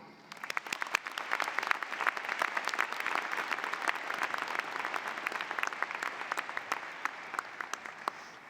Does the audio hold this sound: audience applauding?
yes